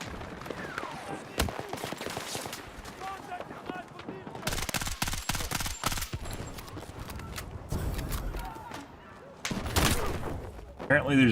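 Rapid automatic gunfire and single shots in the Battlefield 6 video game rattle in repeated bursts throughout, some loud and close, others fainter, with brief pauses between volleys.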